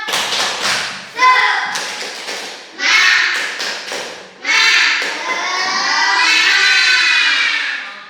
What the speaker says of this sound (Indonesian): Saya coba tepuk semangat.